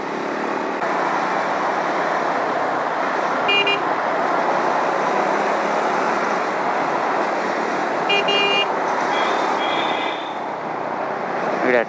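A large bus drives along a road near Rachakonda Fort, heard as continuous traffic and engine rumble with a couple of short horn toots.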